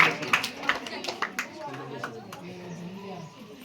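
A school crowd at a National Science Day quiz gives the J.C. Bose team a burst of handclaps that thins out within a couple of seconds as talking takes over.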